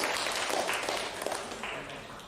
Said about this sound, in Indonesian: tepuk tangan untuk Bu Nur Aziz.